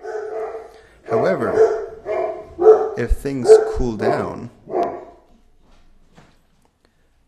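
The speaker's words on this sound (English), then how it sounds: "hopefully you didn't hear the dogs" Dogs barking somewhere near a man who is lecturing, several barks mixed in with his speech and then fading to near silence.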